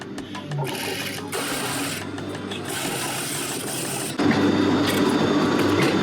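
A sewing machine runs steadily and loudly, stitching a seam on a wrap dress with a 5/8 inch (1.5 cm) seam allowance. Its even mechanical whir continues throughout and grows slightly louder near the end.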